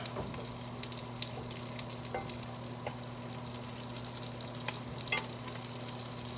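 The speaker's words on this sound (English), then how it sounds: "How fried do you want your Spam?" Spam fries in a pan with a steady, even sizzle, scattered small pops and spits, and a low constant hum underneath.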